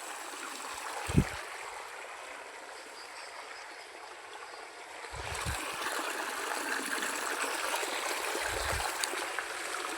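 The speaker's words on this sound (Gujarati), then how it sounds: "તો મિત્રો આમાંથી પાણી આવે છે જો ટાઢું ટાઢું" Steady trickling cold water flows throughout in a village setting, growing a little louder and fuller partway through, with a few soft low thumps.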